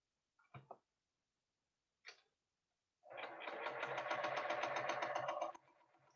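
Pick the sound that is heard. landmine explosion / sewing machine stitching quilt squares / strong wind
sewing machine stitching quilt squares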